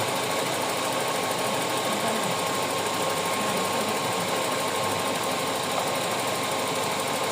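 A Toyota 4AFE engine with low power, black smoke and an idle fault runs steadily at idle close by, giving a continuous buzzing, ticking drone with no breaks and no talk.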